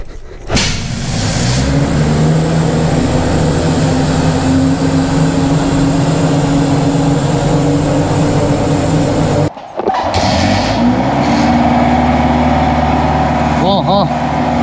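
A Kawasaki motorcycle engine runs loud and steady at close range, holds its pitch, then cuts out briefly before restarting and climbing again.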